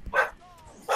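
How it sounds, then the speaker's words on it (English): A dog gives two short, close barks separated by a brief pause, with a faint whine between them. "I made your dog bark."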